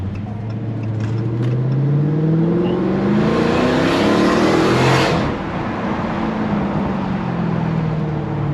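A car engine revs up loudly past about 3,000 RPM and climbs steadily in pitch, then eases off and keeps droning, heard up close from inside the car on rough roads.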